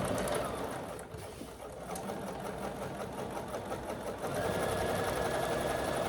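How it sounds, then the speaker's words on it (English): A sewing machine runs continuously while top stitching fabric edges, producing a rapid, even mechanical chatter up close at moderate volume, with a brief slowdown near the start and a slight pickup in pace toward the end. "I am going to stitch those closed. Just a top stitch."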